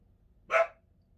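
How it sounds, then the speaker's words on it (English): A single short dog bark close by in a quiet home, one sharp burst with nothing around it. "Now all of a sudden he's barking."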